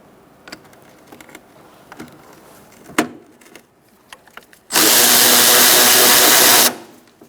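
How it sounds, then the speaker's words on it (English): A 10mm socket on an extension works a bolt loose on a 2004-2009 Mazda 3, with scattered light clicks and taps followed by a loud, close two-second burst of tool whirring that cuts off abruptly. "Using a 10mm socket and an extension."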